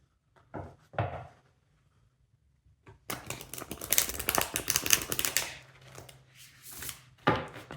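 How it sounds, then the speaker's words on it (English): Deck of oracle cards being shuffled by hand, a couple of brief soft riffles followed by a longer run of quick papery flutters and clicks, close and fairly quiet with no talk. "I'm just going to reshuffle like this."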